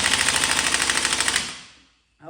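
Cheap Chinese-made impact gun hammering on axle nuts, a rapid loud rattling burst for about a second and a half that cuts off and winds down, followed by a brief faint thump.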